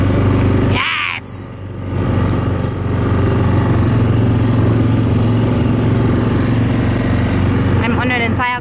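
A quad bike engine drones steadily while riding outdoors on a trail in Clarens, South Africa, loud and close with wind noise, and a voice exclaims over it briefly.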